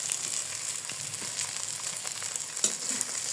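Flattened rice (poha) frying with spices in a pan, giving a steady, close sizzle with faint stirring scrapes throughout and no talking.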